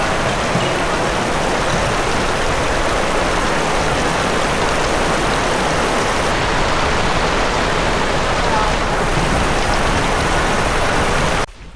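Heavy rain pours down steadily in a continuous dense hiss, loud and close, with no break until it cuts off abruptly at the end.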